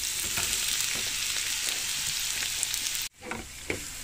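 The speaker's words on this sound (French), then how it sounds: "je balance mes oignons émincés et mes champignons" Sliced onions and mushrooms fry in butter in a pan, cooking in a camping-car: a loud, steady sizzle that cuts off abruptly, then returns quieter with a few stirring scrapes.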